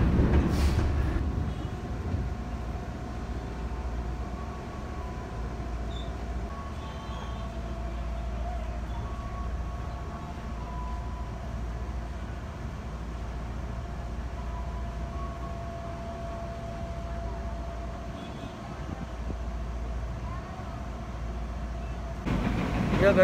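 Inside a KRL commuter train running from Jakarta toward Bogor past Bojonggede and Cilebut, a steady low rumble and rail hum continue throughout, fairly quiet, with a faint tone and occasional soft clunks.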